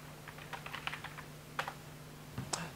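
Soft typing on a computer keyboard during an online game match, a quiet run of irregular key taps with a few sharper clicks, heard alone over a faint steady hum.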